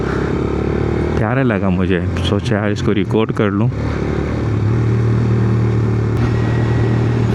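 A 125cc motorcycle passes on a road, its engine a steady mid-pitched drone blended with road noise under someone speaking loudly for much of the stretch.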